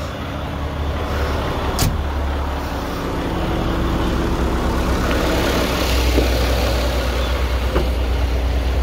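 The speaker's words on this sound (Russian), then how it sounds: "Какой звук мотора. Интересно, немножко погромче стало." American truck engine idling steadily with the hood open, a close, loud, continuous low rumble with a few faint clicks on top and no voices.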